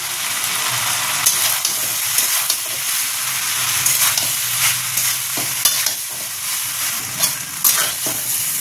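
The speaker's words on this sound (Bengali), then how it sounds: "এবার এতে আমি দিয়ে দেবো পাস্তা, সিদ্ধ করে রাখা পাস্তা" Boiled pasta is stirred into spices frying in a pan: steady sizzling with repeated scraping and stirring strokes, close and fairly loud, no voices.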